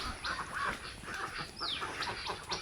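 Several ducks on a farm quack and honk close by in overlapping bursts, a busy continuous flock chorus with no talk.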